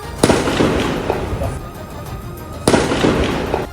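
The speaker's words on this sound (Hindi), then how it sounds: "इसी दौरान वहां से गोली चलने की तेज आवाज भी आई" Two sharp, loud cracks about two and a half seconds apart, each followed by a rumbling echo over a noisy outdoor background.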